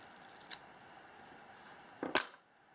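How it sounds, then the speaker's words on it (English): Scissors snip through a pencil-thick section of calf tail hair at a fly-tying bench for an Atlantic salmon fly, two short crisp cuts, a faint one first and a louder double snip near the end, in a quiet room. "We'll cut off a section about as big as a pencil."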